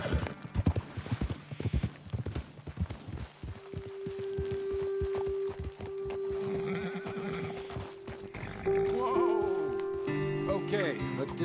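Horses' hooves clip-clop in Red Dead Redemption 2, a run of close hoofbeats slowing to a stop, followed by whinnies and a bleating animal, with talk over them.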